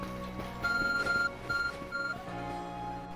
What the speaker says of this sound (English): Oh, so our ARC phone is beeping again.